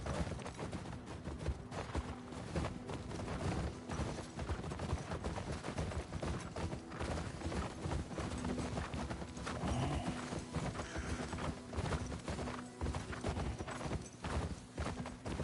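Horse hooves clip-clop in a steady, continuous rhythm as a horse is ridden through a video game, loud and close throughout with a busy game soundscape behind.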